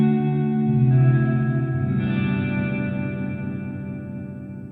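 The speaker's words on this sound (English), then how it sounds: "that's a really lovely reverb" Sustained electric guitar chords ring out through a Hotone Ampero Mini reverb with the mix turned fully up, a lush, loud wash of tone that shifts once midway and slowly fades with a long tail, no voice heard.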